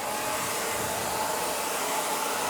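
A hair dryer blows steadily at close range while drying men's hair, a constant broadband roar with no pauses or talking.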